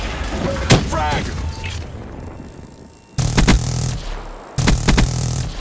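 A frag grenade blast in the shooter game Black Ops 3, a couple of loud, heavy booms arriving in separate bursts over a steady background of game noise, following a short shouted voice line.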